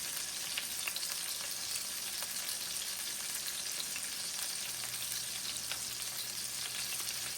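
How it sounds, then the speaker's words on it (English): Steady, crackling sizzle of burger patties frying on a hot grill, even and constant throughout with no talking. "They're nicely sizzling up."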